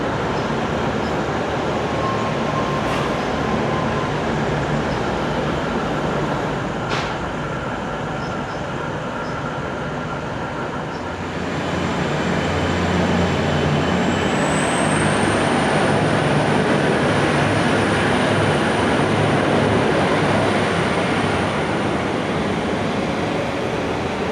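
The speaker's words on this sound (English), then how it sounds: "The train's just pulled in on platform 2." A train rumbles steadily at close range, with a high metallic squeal rising and holding as it rolls along platform 2 at Footscray station.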